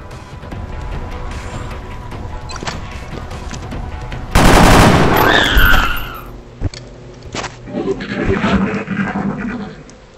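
In XCOM Enemy Within on Android, a training mission ends with a loud, sudden burst of gunfire that cuts through quiet ambient hum and is followed by a few sharp clanks and a rising electronic whine.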